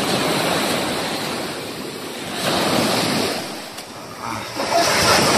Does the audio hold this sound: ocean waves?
yes